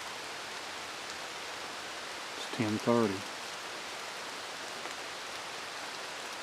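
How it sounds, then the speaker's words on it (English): Steady rain falls through woodland during a spring turkey hunt, a soft continuous hiss throughout while someone speaks briefly in the middle. "it started raining again"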